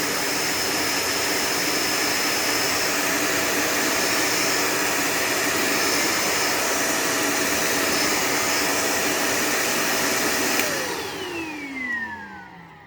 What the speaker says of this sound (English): in the hard floor mode, the brush roll does not stop. The motor for the brush roll simply runs at a slower speed.